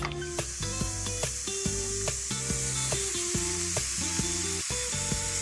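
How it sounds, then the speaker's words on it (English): Ground beef sizzles in a heated frying pan with a loud, steady hiss, while light stirring taps and clinks come through over a background tune. "To a heated frying pan, I'm going to add in my ground beef."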